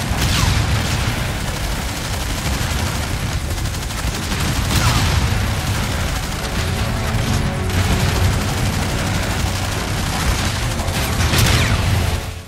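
Heavy sustained gunfire in the shooter game Call of Duty: Infinite Warfare, with rapid automatic bursts and booming impacts crowding one another, loud and continuous with brief sharper cracks and no talking.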